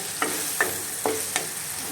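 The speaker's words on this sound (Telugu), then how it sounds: "టమాటాతో పాటు కొత్తిమీర కూడా వేసాను. ఇప్పుడు బాగా కొత్తిమీర ఫ్రై అవ్వాలి." Tomato and coriander frying in a pan for chicken curry, heard as four distinct stirring scrapes spaced over a soft, constant sizzle close by.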